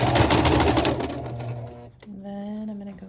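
A sewing machine runs a backstitch on a shirt seam in contrasting thread, loud and steady at first, then slowing to a softer, lower hum with a steady tone.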